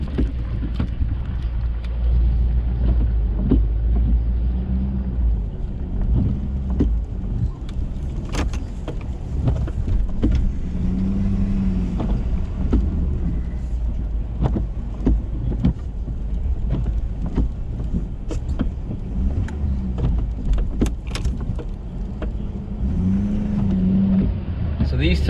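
A pickup truck's engine rumbles steadily while plowing snow in a heavy storm, running on Firestone Destination XT tires, with a low constant drone and occasional scraping clunks under someone talking.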